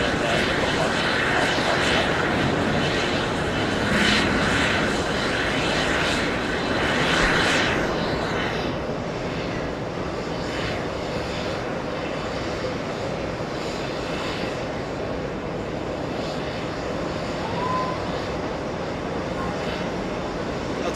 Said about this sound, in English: A350 Air France. A departure, 13 right.